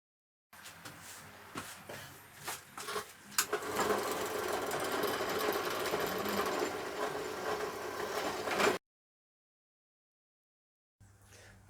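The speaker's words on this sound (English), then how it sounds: "Now I just need to make pilot holes for the screws" A drill bores pilot holes for screws into wood while a wooden toilet step is built, with a few short bursts at first and then a sustained whirring run up close, followed by silence.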